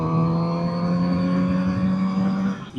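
A Kawasaki Z900RS four-cylinder motorcycle engine revving at a steady high pitch, smooth and sustained for a few seconds before tailing off at the end.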